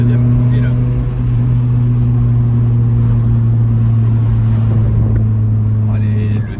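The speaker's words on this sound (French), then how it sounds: "le son des moteurs atmosphériques, c'est incroyable" Honda CRX with a 1.6 VTEC four-cylinder engine droning loudly and steadily, a strong low hum with a second tone above it, as if heard from inside the car, with brief voices near the start and end.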